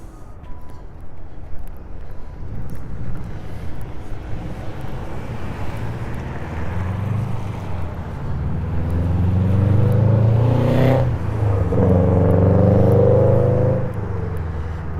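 A car passes along a city street during a winter walk, its broad whooshing roar swelling from a distant rumble to a loud close pass and then fading, with wind buffeting the microphone.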